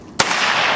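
A single sharp gunshot fired outdoors at a shooting session, a loud close crack followed by a sustained noisy echo and rumble trailing off across the open range.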